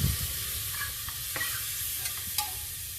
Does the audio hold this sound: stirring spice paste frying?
yes